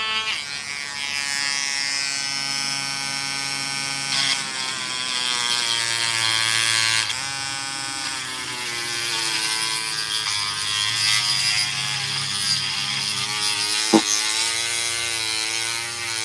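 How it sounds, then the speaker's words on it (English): A Dremel rotary tool counter-milling a lock, a continuous high-pitched whine with shifting pitch and grinding texture, steady and close for the whole stretch with a brief sharp click near the end. "a little sound warning, I'm going to hit the Dremel."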